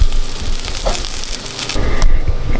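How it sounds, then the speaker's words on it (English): Sausage frying in a pan, a loud steady sizzle with crackle that stays close and constant, with no talking. "I am making sausage"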